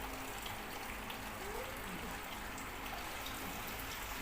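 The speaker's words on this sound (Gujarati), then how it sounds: "હવે તમને વરસાદ પણ દેખાશે અહીં પણ જો છાંટા પડે એ પાણીમાં" Steady rain falls into water pooled across a home courtyard, a continuous even hiss of drops and splashes, close and unbroken, with no voices.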